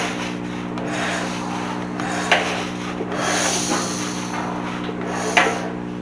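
A rebuilt Saylor Beall air compressor runs steadily with a low, even mechanical hum and faint rubbing and knocking over it, close up, with no talking.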